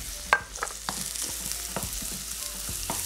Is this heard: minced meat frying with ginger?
yes